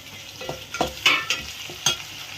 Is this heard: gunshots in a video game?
no